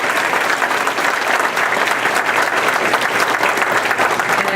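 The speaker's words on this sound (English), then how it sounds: "I would also like to thank our two sign language interpreters here. If we could give them a round of applause." At a vocational student awards banquet, a crowd gives two sign language interpreters a round of applause, with continuous, even clapping from many hands that stays loud and full throughout.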